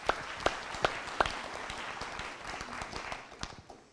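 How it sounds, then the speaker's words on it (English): Congregation at a church service clapping after a musical demonstration, a few sharp claps standing out at first before settling into a soft, scattered patter that gradually thins out. "we'll clap for that"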